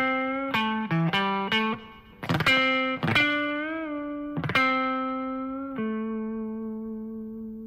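A blues guitar phrase in the pentatonic minor scale, with quarter-step and half-step string bends, plays alone: plucked notes in quick succession, a few bent and wavering, ending on a sustained ringing note.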